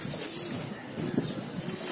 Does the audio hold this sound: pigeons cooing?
yes